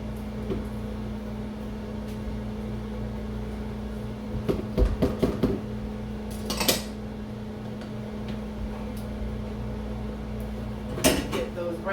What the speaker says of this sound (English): take like a rubber spoon and scrape out those dishes